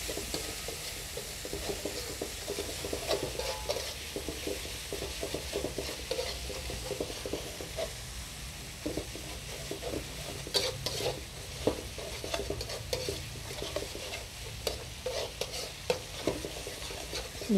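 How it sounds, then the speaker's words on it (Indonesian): Fish spices such as galangal and seasoning powder being stirred in a frying pan, a continuous soft sizzle with repeated scraping and tapping of the spatula against the pan. "Aduk-aduk."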